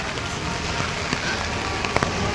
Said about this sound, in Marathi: त्यात पाऊस आला नेमका, आणि तो पण भरपूरच आला